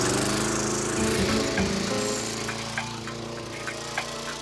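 A lawn mower engine drones steadily and close by, a dense mechanical roar that gradually eases in level, with a few sharp clicks and knocks near the end.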